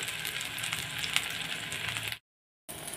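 Steady, bright sizzling of onion and green chili frying in oil, broken by a brief moment of silence before the hiss resumes.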